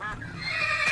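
A single horse in Minecraft with the Mo'Creatures mod lets out a short, loud, close whinny that rises in pitch toward its end.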